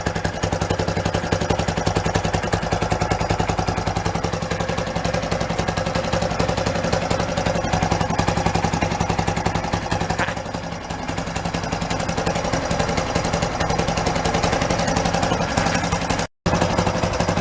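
A Beaver amphibious vehicle with a new engine, started for the first time in 25 years, idles steadily up close with a clattering, even drone that runs the whole time, cut by one brief dropout near the end.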